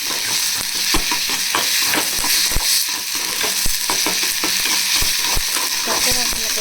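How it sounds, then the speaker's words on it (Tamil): Onion with ginger garlic paste sautéing in hot oil in a pan, a steady close sizzle broken by frequent sharp clicks and scrapes of stirring, with no talk. "இஞ்சி பூண்டு பேஸ்ட்டு நல்லா வதக்கிக்கணும் ஆனியனோட"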